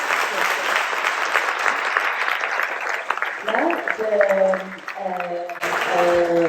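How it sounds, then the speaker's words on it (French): Audience applause at a festive day welcoming immigrants in the Bécancour region, dense clapping at first, then a voice speaks over the dwindling claps. "Il mérite un grand applaudissement."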